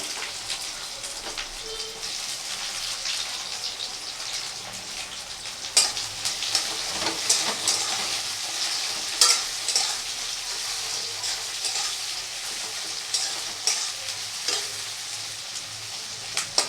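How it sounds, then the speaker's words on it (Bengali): Onions fry in oil until browned for a mutton and potato curry, a close, even sizzle with irregular louder bursts and crackles as they are stirred, with no voices. "পেঁয়াজগুলোকেও লাল করে ভেজে নেবো"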